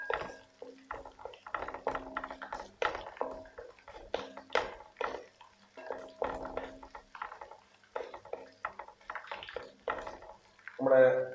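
Ginger and green chillies frying in a pan while being stirred, a steady run of scraping, clinking spoon strokes over a soft sizzle, close and repeated, ending with a louder clatter.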